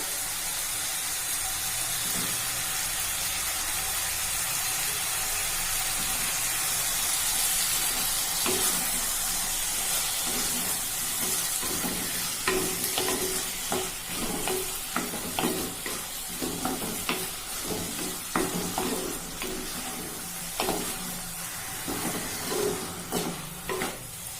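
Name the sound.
brinjal sautéing and sizzling in a pan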